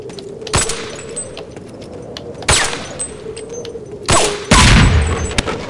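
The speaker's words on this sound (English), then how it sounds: "I'm gonna save because that explosion might kill me." An explosion in the video game They Hunger: three sharp, loud booming blasts, each with a rattling tail, over a steady low game hum, with no talking.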